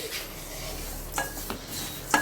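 Sesame seeds dry-roast in a pan for dry fruit laddu, with soft rustling and a few sharp clinks of a spoon against the metal as they are stirred. The sound is close and quiet, with no talking.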